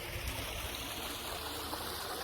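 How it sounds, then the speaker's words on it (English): A small waterfall on a creek in the White Pines Nature Preserve gives off a constant, even rush of water, close and unbroken throughout. "He wanted to hike up along this creek here."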